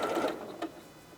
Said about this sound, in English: I'm just going to start stitching them together